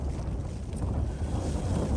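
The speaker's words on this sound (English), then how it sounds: "that gust there, definitely above 40 mile an hour now" Strong gusts above 40 mph batter a tent at a mountain summit camp on Creag nan Gabhar, a steady loud roar of wind buffeting the microphone with no voices.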